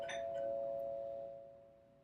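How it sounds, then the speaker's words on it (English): A UPS delivery sets off a two-tone ding-dong doorbell chime indoors that rings out once, clear and moderately loud, then slowly fades away. "Ding dong."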